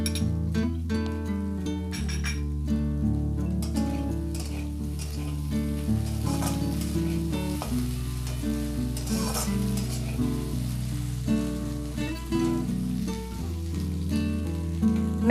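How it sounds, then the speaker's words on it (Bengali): Chopped tomato fries in a hot pan for a Maggi noodles breakfast with egg and peanuts, a loud, constant sizzle with crackling spatters and stirring sounds, no voices. "এই সময় আমরা যে টমেটো কুচি করে রেখেছিলাম সেটা এর মধ্যে অ্যাড করে দেব"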